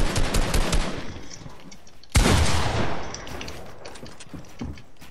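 Rapid automatic gunfire from the Fortnite video game rattles in a dense burst, followed by a sharp loud shot and trailing bursts of shots, close and busy throughout.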